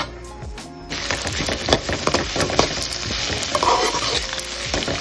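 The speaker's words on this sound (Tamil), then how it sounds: "இப்போ பாருங்கள், நறுக்கி வச்ச வெங்காயத்தையும் நாம் இதில் சேர்த்தாச்சு. இது கொஞ்ச நேரம் வதங்கட்டும்." Chopped onions sizzle and crackle loudly in a hot pan, with a sudden burst as they hit the oil and occasional stirring clatter.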